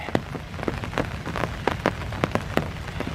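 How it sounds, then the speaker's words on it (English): Rain falling in Iroquois Park by a pond near a rustic pavilion on a May morning, steady patter with distinct close drops hitting surfaces, no voices. "Still raining."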